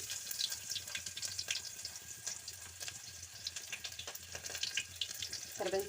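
Onion fries in oil with mustard seeds, giving a low continuous hiss and crackle with faint scattered pops, close but quiet, with no clear speech.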